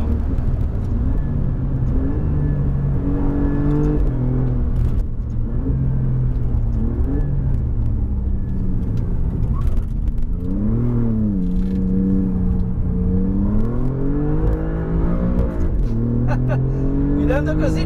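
Alfa Romeo Giulia GTA on semi-slick tyres accelerating hard down a track straight, its engine note climbing through the revs in rising sweeps with gear changes, loud and close from inside the car, with someone talking over it.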